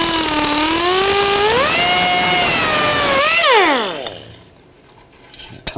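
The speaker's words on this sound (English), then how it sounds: "There's a band clamp right here. I'm just going to use a cutoff wheel." A cutoff wheel grinding through a band clamp on the heat shield of a catalytic converter from a 2013-2019 Ford Escape, a loud close whine rising in pitch, then spinning down to quiet with a few clinks.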